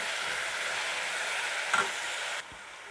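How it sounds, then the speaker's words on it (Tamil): Onions fry in a hot pan, a close crackling hiss with a brief stir partway through before the sizzle quiets. "இப்போ வெங்காயம் நல்லா வதங்கிட்டுருக்கு."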